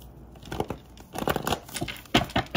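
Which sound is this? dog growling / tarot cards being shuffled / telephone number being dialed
tarot cards being shuffled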